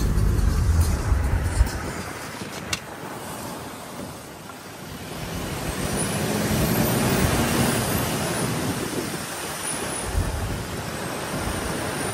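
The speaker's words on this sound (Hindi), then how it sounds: "अब विंडोज खोली है ना, तो अब पूरा थ्रस्ट आ रहा है। इंजन की पूरी रोरिंग आवाज आ रही है।" A steady car engine roar with loud wind rushing through open windows on a road in Himachal Pradesh, rising and falling slightly, no speech.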